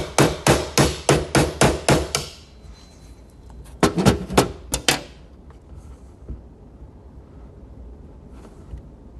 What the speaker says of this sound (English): I'm just going to use a plain old tack hammer.